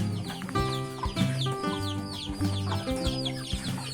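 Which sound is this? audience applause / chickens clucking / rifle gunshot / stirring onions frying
chickens clucking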